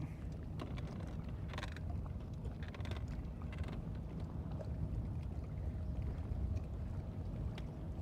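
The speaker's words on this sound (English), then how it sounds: "somewhere where I'll be somewhat safe from this yacht wake that's about to come through" A yacht passes on Lake Guntersville and its wake rolls through: a steady low boat rumble with wind buffeting the microphone, continuous and fairly loud throughout.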